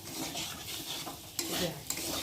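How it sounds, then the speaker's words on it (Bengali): Spice paste with ginger and garlic fries in a pan for an egg curry, a soft continuous sizzle with scraping stirs and two sharp utensil taps near the end. "ভালো করে সময় নিয়ে ভেজে নিতে হবে"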